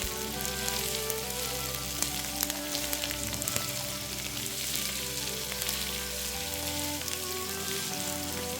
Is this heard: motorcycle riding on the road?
no